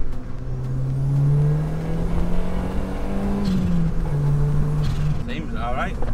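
Modified turbocharged 1.3-litre Ford Ka on new Toyo tyres drives past with a rising and falling engine drone, near and steady, while a person talks.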